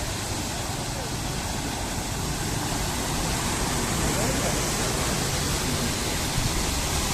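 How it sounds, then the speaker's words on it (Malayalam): A tall four-wheel-drive vehicle pushes through deep floodwater on the NH 66 highway in Malappuram, a steady loud rushing wash of water and engine noise that fills the whole stretch without a break. "ഈ വണ്ടി ഒന്നും ഇതിനെ പേടിക്കാനില്ല എത്ര വെള്ളം കയറിയാൽ പ്രശ്നമില്ല ഉയരുള്ള വണ്ടിയാ ഫോർ ഇൻറ്റു ഫോറാണ്"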